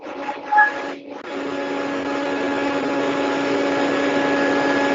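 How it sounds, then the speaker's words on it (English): A vacuum cleaner runs nearby during an online talk about Azure monitoring, a steady broadband whine with a tonal hum that settles in after a brief bump and keeps droning loudly and evenly to the end. "Someone is vacuum cleaning out."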